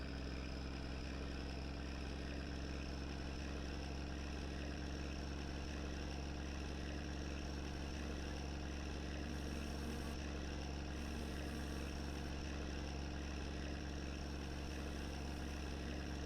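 A bus engine idles in My Summer Car, a steady low droning rumble with a constant hum that holds evenly and moderately quietly throughout without pause.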